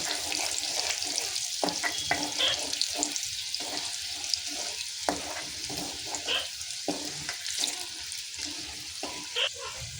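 Garlic cloves and curry leaves frying in hot oil in a pan, a steady close sizzle with crackling pops and occasional stirring scrapes throughout, no talking.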